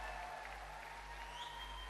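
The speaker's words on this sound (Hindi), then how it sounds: "जोरदार तालियां" Audience applause at a recognition ceremony, a short burst of steady clapping from a gathered crowd, fairly faint and even throughout with no talk over it.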